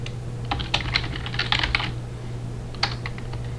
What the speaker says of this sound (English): I can change the title by typing it in here.